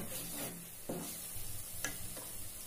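Pointed gourd gravy being stirred in a pan, producing a faint, low sizzle with a few soft scraping strokes of a spoon against the metal, quiet and close.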